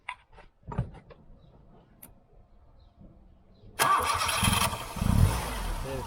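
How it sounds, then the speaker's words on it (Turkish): Tofaş car engine cranked on the starter during an ignition timing adjustment: a brief whir, then the engine catches and runs loudly and steadily, close by, after a few quiet seconds of faint handling noises. "marşa basalım"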